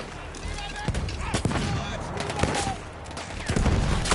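Rapid gunfire in Battlefield 1 on a World War I battlefield: dense, crackling bursts of shots and automatic fire, continuous and fairly close, with a voice talking over the shooting.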